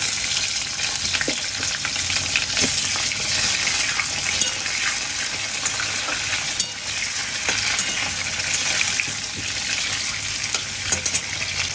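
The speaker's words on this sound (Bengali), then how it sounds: "তার মধ্যে এই যে আলুগুলো দিয়ে দিচ্ছি" Potatoes hitting hot oil seasoned with cumin and bay leaf, a loud continuous crackling sizzle lasting throughout, with scattered clinks and scraping from stirring in the pan, close and unbroken by talk.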